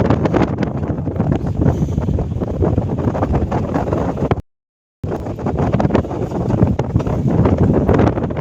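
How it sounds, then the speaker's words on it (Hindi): Strong wind buffets the microphone outdoors beside a statue in Germany, a loud, continuous rushing roar that drops out briefly midway before returning, with no talk. "हवा बहुत तेज़ है"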